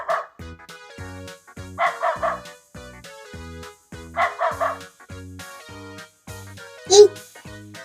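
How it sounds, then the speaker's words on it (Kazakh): A dog barks in a short run of repeated yips, clear and close, over a steady looping musical backing with other voice-like sounds mixed in. "Ит. Бұл ит."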